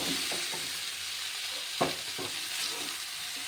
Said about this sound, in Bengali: আলুগুলি হালকা ভেজে নিয়েছি দেখুন তার মধ্যে আমি লাগুলি ভাজতে দিয়ে দিচ্ছি